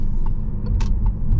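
A Peugeot 508 PSE 360 HP plug-in hybrid cruises at night, a low steady rumble of road and drivetrain from inside the cabin, with a few faint clicks and ticks on top.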